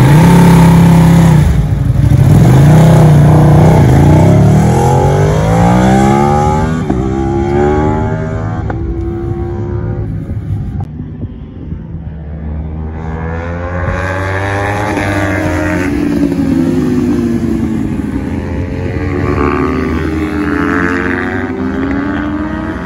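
Superbikes racing on the circuit at Blyton Park Raceway, with high-revving engines screaming through gear changes as they rise and fall in pitch, loud and close, several machines passing one after another.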